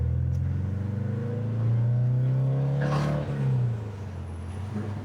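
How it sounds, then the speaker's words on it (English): Porsche 914 held in second gear through a corner, a low steady engine drone rising briefly then easing off, heard from inside the car at moderate level. "Intentionally put it in second gear around the corner."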